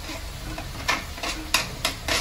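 Vegetables being stirred in a frying pan with a spoon, a steady sizzle running underneath while several soft scraping strokes come at an uneven rhythm, close by.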